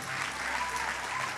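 Church congregation clapping together in a brief, steady burst, a soft, moderately distant patter of many hands with a faint low hum beneath.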